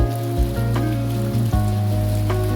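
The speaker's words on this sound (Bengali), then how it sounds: "ঝুম ঝুম করে বৃষ্টি চলে এসেছে" Heavy rain falling in a steady, dense wash of noise that runs through the whole stretch, with a low tonal hum underneath and no voices.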